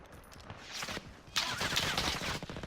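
Rapid bursts of automatic gunfire in the Call of Duty Warzone shooter, with a quieter stretch of shots followed by louder, dense volleys that continue to the end.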